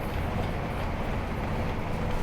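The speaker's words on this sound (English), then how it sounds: "And we got another A train over there." An MTR Tung Chung Line A-train running in Hong Kong, heard as a steady, dense rumble of wheels and motors that stays constant throughout, with no talk.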